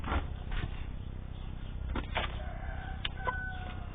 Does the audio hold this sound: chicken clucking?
yes